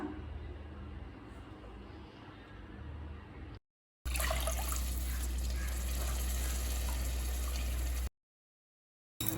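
Water poured into a pan of sautéed soya chunk biryani masala, a close gushing splash in two bursts separated by brief silences.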